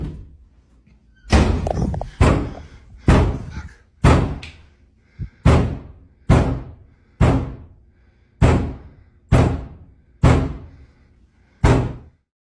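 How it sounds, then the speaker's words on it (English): Doors bang loudly inside a house, about a dozen heavy slams in a steady, irregular series, each sharp, booming and close, with brief quiet gaps between them. "doors start banging loudly in the rooms"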